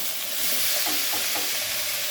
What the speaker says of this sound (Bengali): এবার আমরা ফুলকপিগুলো দিয়ে দিব।